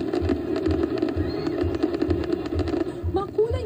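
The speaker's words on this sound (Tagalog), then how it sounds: "Makulay na fireworks ang isinalubong sa Year of the Wood Dragon pagpatak ng hating gabi sa Jones Bridge sa Maynila." Colourful midnight fireworks over Jones Bridge in Manila for Chinese New Year, Year of the Wood Dragon, heard as rapid, rhythmic thumping bursts under a steady crowd hum, with voices audible.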